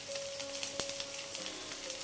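Large chunks of onion sizzle in hot oil in a pan, a soft, steady frying hiss with a faint tone running through it.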